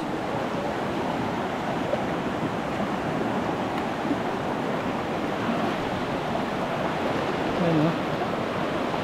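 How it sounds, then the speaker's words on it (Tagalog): Strong mountain river current rushes at a crossing on Mt. Irid, a steady broadband roar of churning water close by. Faint voices come in briefly under it. "Malakas ang agos."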